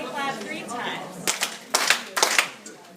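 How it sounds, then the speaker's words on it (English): Hands clap a signal pattern in a classroom workshop, sharp separate claps coming in small clustered bursts after a quieter stretch with faint voices. "if you hear me clap once, if you hear me clap 3 times"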